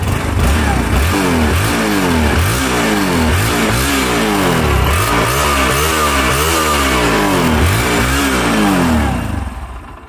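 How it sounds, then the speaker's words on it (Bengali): A 2021 Bajaj Pulsar NS 160 ABS motorcycle revved repeatedly with the throttle, loud close engine rising and falling in quick rhythmic surges before dropping off at the end. "এবারে অ্যাক্সেলেটার দিই।"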